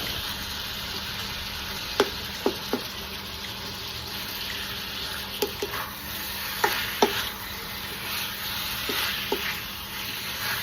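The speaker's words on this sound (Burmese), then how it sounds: "ကြော်ပေးပါမယ်ရှင်" Pork pieces fry in a pan with a constant, close sizzle, broken now and then by the clatter of a utensil stirring and scraping against the pan.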